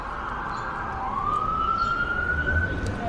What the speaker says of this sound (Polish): teraz karetka przyjeżdża